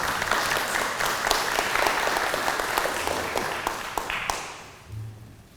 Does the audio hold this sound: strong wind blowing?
no